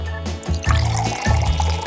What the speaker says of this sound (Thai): ตอนนี้ฉันจะเทน้ำมันลงไปในกระทะ